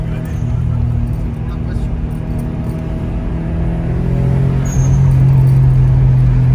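A tuned car engine revs under steady cabin drone, with a dump valve venting as the throttle is pressed, the sound swelling louder toward the end.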